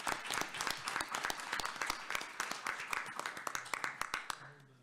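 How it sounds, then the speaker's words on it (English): Applause at a school district board meeting: a crowd claps in quick, sharp, crisp bursts that thin out toward the end, no speech over it. "Let's give them a round of applause."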